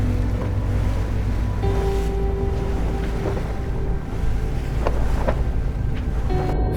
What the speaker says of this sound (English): we opted to take a ferry as opposed to driving